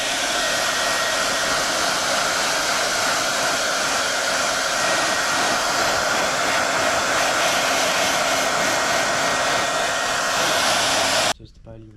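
A heat gun blows a loud, steady roar while warming a decal kit on a 2017 Yamaha 250 YZ motocross bike, running continuously up close before cutting off abruptly near the end.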